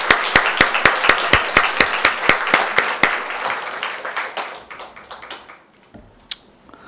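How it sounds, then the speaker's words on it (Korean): A church congregation claps during a Sunday worship service: a run of sharp, evenly spaced claps that loosens and thins out, then fades to a few scattered final claps. "감사와 격려의 박수를 드리러 갈까요?"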